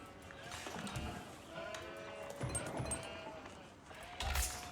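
Sheep bleat repeatedly in the video game Age of Empires IV, their wavering calls drifting over a steady background bed, one louder bleat near the end.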